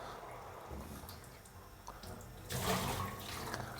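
A tap runs into a mop sink in a Pizza Hut kitchen, a steady hiss of water that swells suddenly louder partway through.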